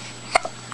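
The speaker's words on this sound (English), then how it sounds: "You have the hiccups?" A single short, sharp hiccup from a child rises briefly out of quiet room tone, followed by a faint soft after-sound, with no talking.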